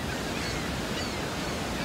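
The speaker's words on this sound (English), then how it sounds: "So here's the normal waterfall right here." Niagara Falls water pouring down near the Cave of the Winds on the New York side, a steady dense roar of rushing water that holds evenly throughout with no pauses.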